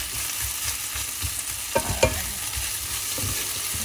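Pork and string beans sauté in a pan for adobong sitaw, a steady close sizzle broken by a couple of sharp stirring scrapes.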